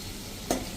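Tomatoes drop into hot oil and a besan-based ridge gourd curry in a pan, setting off a sudden, sharp sizzle that fades into a soft frying hiss after a near-quiet moment.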